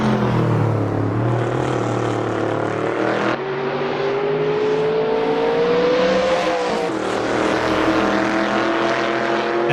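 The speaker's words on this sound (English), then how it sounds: "Into the downhill braking zone they go." Commodore and Falcon touring cars in an ATCC racing video game, VK versus XE, engines droning loud and steady with pitch shifts as they brake into a downhill zone, several cars close together.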